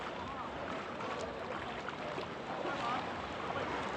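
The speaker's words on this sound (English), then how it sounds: "We're boarding our sailboat." Steady broadband wash of wind and sea on a paraw sailboat off Boracay, loud and continuous, with no clear voices over it.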